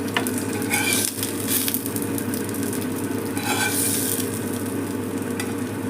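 Fish pieces fry steadily in a pan with little oil, a continuous close sizzle with occasional stirring and scraping, no voices.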